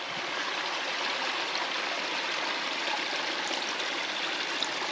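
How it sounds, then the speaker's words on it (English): Water pours steadily through a beaver dam beside a flooded trail boardwalk, a dense, even rushing like a small stream, close and continuous with no voices. "Now it is draining,"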